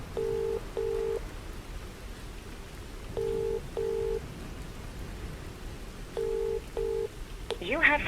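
Phone dialing tones play in three pairs of short beeps, spaced evenly, over a faint hissing background of rain-like noise, ending with a brief rising electronic chirp.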